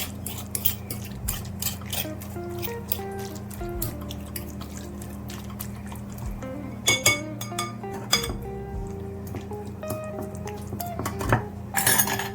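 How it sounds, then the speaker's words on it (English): Metal fork on a cooking pot, scraping and clinking sharply and irregularly while cooked peas for Jamaican stew peas are crushed, with occasional louder knocks against the pot and no talking. "Just use a fork and crush it and put it back in the pot."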